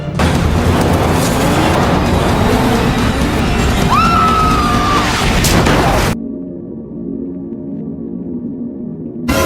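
A car in a film scene accelerating hard, a loud roaring engine and rumble sweeping past for about six seconds with a brief high whine, then cutting to a quieter low hum.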